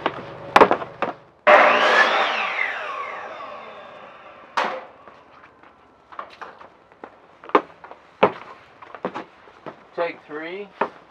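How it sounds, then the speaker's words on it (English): A power saw trims a sheet of half-inch plywood for a van ceiling. One loud whining cut lasts about two and a half seconds, followed by scattered knocks and handling clatter nearby. "So now we're at 1/2 inch plywood, and it's still too long. So let's go trim it some more."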